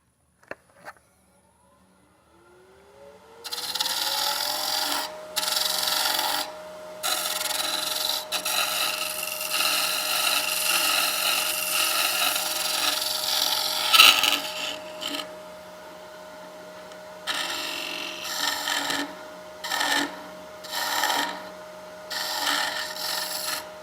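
A lathe spins up, then a turning tool scrapes and rasps against the bottom of a wood-turned hollow vessel in repeated close cutting passes, with a steady motor hum underneath and brief pauses between strokes.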